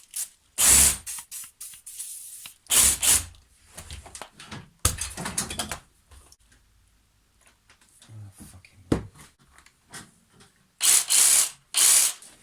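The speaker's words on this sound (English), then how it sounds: "give them a little squirt or something, WD-40 or hedge trimmer spray" An aerosol can of WD-40 or hedge trimmer lubricant sprays onto hedge trimmer blades in several short hissing bursts separated by quiet pauses with faint handling noises.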